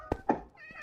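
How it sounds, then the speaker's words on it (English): Minecraft cats in a village give short, faint meows and soft thumps in quick succession, quiet and somewhat distant; no talking. "Now these are more cats."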